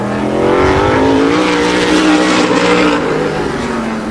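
Tour-type modified race car engine during qualifying at Wall Stadium, a loud sustained roar that rises and holds, then eases slightly as the car runs through the turns.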